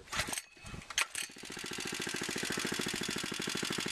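A small engine driving a spray bar water system on a Keene A52 sluice box idles with a steady, rapid pulsing chug after a few brief knocks and handling noises, close and continuous.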